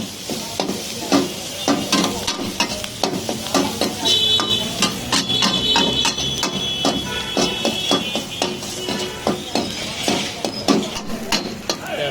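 Onions and chilies frying in a pan, stirred briskly with a utensil that knocks and scrapes against the metal in a quick, regular rhythm over a close, bright sizzle.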